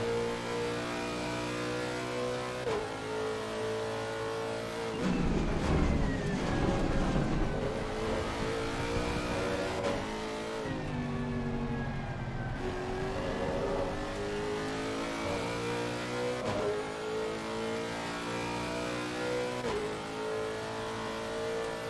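Porsche race car engines in the Assetto Corsa Competizione racing game, a continuous loud engine roar with rising and falling revs and gear changes, cars running close together, no talking.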